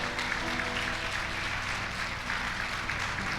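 Church congregation clapping during a Spanish-language sermon, a soft, steady patter of many hands heard at a distance with a low hum of the hall behind it.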